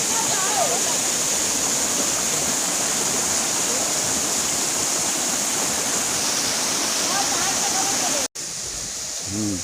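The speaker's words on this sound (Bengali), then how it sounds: "এইটাই লাস্ট পয়েন্ট, একদম গোমুখ, যেখান থেকে জল বেরোচ্ছে।" Steady, loud rush of water gushing from a spring source at Rock Garden in Darjeeling, continuous and close, with faint voices underneath and an abrupt cut near the end.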